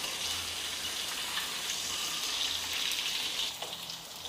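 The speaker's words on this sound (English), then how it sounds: "Our fish getting cooked." Pomfret fish frying in a pan with chillis gives a steady, dense sizzle that holds evenly for about three and a half seconds before thinning slightly near the end, with no voices over it.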